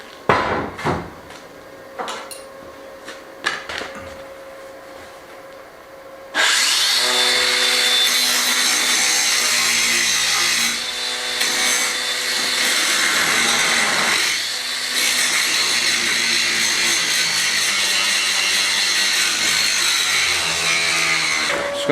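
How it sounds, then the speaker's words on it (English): A grinder cuts off old welds in a kitchen renovation. After a few quiet knocks it starts abruptly and keeps up a loud, continuous whining grind that dips briefly. "So I just need to grind off some of these previous welds on it and stuff"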